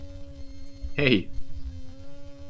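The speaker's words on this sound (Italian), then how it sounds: "Cos'è sta ape? Che mi ronza." A bee buzzes briefly and loudly close by, a single short whining drone that cuts in over a steady low electronic hum and muffled background noise.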